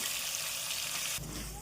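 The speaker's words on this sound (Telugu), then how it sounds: "నీళ్ళన్నీ ఇంకిపోయినాక ఇట్లా ఆయిల్లో మంచిగా వేపుకొని పక్కకి పెట్టుకోవాలి" Prawns fry in oil in a pan with a soft, continuous sizzle that shifts partway through as they settle, low and fairly faint, with no voices.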